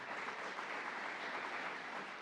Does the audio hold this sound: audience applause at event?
yes